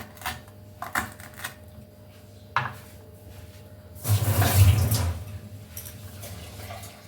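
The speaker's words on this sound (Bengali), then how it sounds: "আদাটাকে ধুয়ে জাস্ট একটু কেটে নিয়েছি" Ginger is rinsed and cut in a home kitchen while preparing a vegetarian malai paneer dish: a few light clicks and taps, then a brief rush of running water, all fairly faint with no talking.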